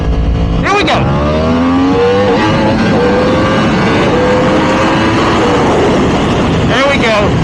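A Yamaha R1M motorcycle pulls hard from first gear near the Mexican border, its engine climbing loudly in rising sweeps with brief breaks for gear shifts, close and dominant.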